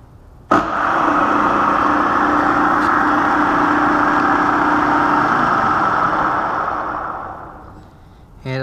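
A Bridgeport milling machine motor switches on abruptly and runs forward with a loud steady hum and whir for about seven seconds, then spins down and fades, with no talking over it.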